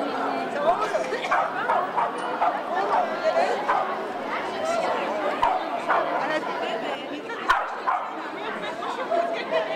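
Dogs bark and yip amid a crowd at a dog owners' street demonstration in Paris, scattered barks and whimpers mixed into loud chanting and chatter of many people.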